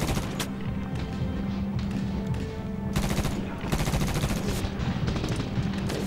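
Combat fire rattles in the PS3 shooter Medal of Honor: dense volleys of rapid gunshots and machine-gun bursts, close and loud, with heavier clusters near the middle and end.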